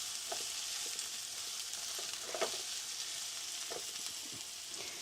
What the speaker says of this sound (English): just to saute for 2 minutes